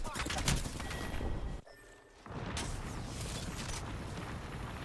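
Assault rifle gunfire in a video game, dense rapid bursts with a brief pause midway, close and loud, with some faint talk underneath.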